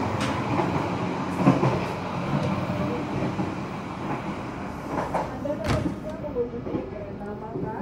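Inside the Argo Bromo Anggrek express running between Surabaya and Jakarta, a steady rumbling roar of the carriage fills the space, with occasional rail clunks and rattles and faint voices underneath.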